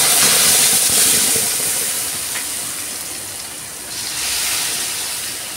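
Blended chili sambal tomato paste hits hot oil and sizzles with a steady broad hiss that eases slightly partway through and then swells again.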